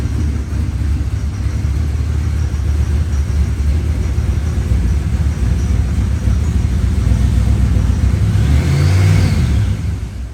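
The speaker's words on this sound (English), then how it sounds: "I drove this thing into the shop before we pulled the motor" A carbureted vehicle engine runs as it drives into a shop, producing a loud, steady, close rumble that swells slightly near the end.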